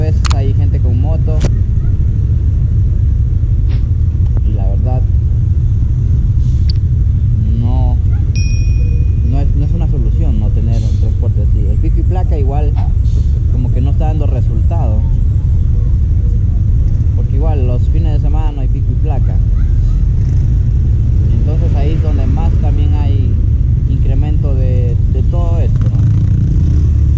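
Traffic of cars and motorcycles on a busy Quito street, with a loud, constant low engine rumble, passing motorbikes and occasional horn-like tones, while someone talks over it close by.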